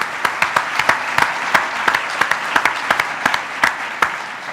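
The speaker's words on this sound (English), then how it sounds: "You guys give yourselves a round of applause" A small group of salespeople at an interview event clapping for themselves, with sparse, distinct individual claps in an uneven rhythm rather than a dense roar.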